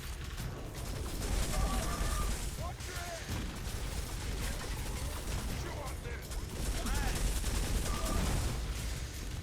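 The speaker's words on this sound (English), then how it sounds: "Pulse rifle showing us why it's the best weapon in the game." A pulse rifle fires in the 2008 PC video game Turok, a dense continuous stream of rapid shots with mechanical clatter, running throughout while someone talks over it.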